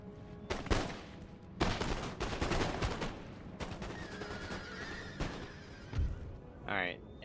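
Musket volleys fired by massed line infantry in Total War: Empire, several crackling rolling bursts in close succession with battle clatter and a horse whinny, mixed with talking.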